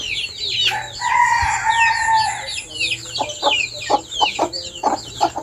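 A rooster crows once loudly nearby while hens cluck and chatter repeatedly around it, with faint background voices.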